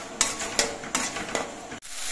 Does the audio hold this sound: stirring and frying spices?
yes